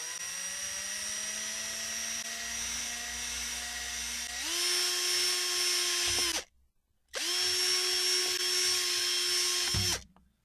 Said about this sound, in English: I'll make a hole in the Bauer piece